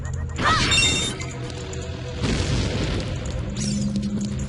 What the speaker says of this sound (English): that explosion actually looks a lot bigger than the regular bomb explosions